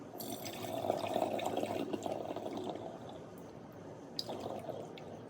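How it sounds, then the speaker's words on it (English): Strained whey poured from a yogurt-making batch into a container, a steady close liquid splashing and trickling with a few drips, running continuously for several seconds without speech. "put the whey in. And it's going to spill a little bit"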